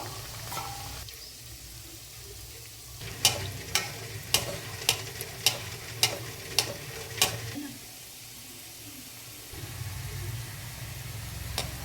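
Badusha sweets sizzle gently in hot oil over a low flame, a steady frying hiss broken midway by a run of about ten sharp, evenly spaced taps before the sizzle settles again.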